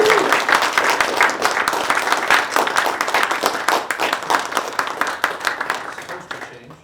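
An audience at an open poetry and fiction reading applauds, dense clapping that gradually thins and fades toward the end, with some voices mixed in.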